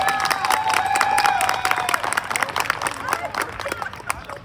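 A rodeo tournament crowd cheers and claps in a rowdy burst, whistles and shouting voices riding over rapid applause that stays loud and busy throughout.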